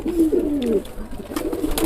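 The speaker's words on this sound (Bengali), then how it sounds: "অনেক পায়রা রয়েছে প্রচুর পায়রা" Many pigeons coo in a large loft partly enclosed for winter, their low, throaty calls repeating in soft overlapping phrases close by, with a steady murmur of birds throughout.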